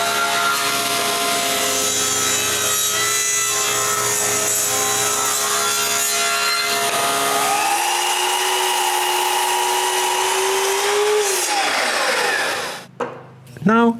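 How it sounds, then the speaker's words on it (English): A power tool cuts wood blocks into board spacers, a loud steady whirring, grinding cut that runs continuously, shifts pitch partway through, then winds down and stops near the end. "Then I can cut some wood blocks to make the board spacers."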